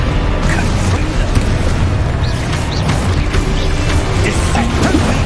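Confringo blasting spells in Hogwarts Legacy combat: repeated booming impacts and crashes in a busy, loud battle, with heavy low rumble and scattered sharp hits throughout.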